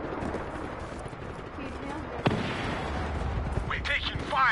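Gunfire and explosions from a battle in the video game Just Cause 3, a continuous rumbling barrage with one sharp loud crack midway and scattered bursts near the end.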